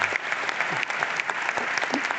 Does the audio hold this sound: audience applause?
yes